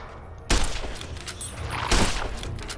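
Gunfire in the video game Fallout: New Vegas, two sharp loud bursts about a second and a half apart, each trailing off into a rumbling decay, with no voice heard.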